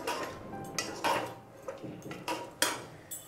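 A spoon knocks and scrapes against a cooking pan on a gas stove while garam masala is stirred into a dal and green onion dish. The clinks come as separate irregular taps, close and fairly soft, with no talking.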